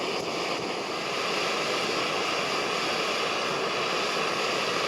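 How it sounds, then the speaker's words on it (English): Pot of water at a rolling boil on an MSR Pocket Rocket 2 backpacking stove, a steady dense roar of bubbling and burner hiss, close and constant with no talk. "It's a rolling boil right now."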